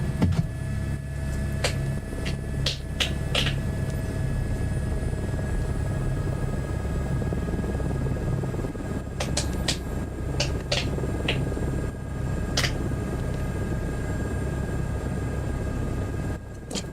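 A propeller aircraft in Microsoft Flight Simulator 2024, on a search and rescue flight, drones steadily with a continuous low engine hum, with scattered clicks and faint bleeps over the top.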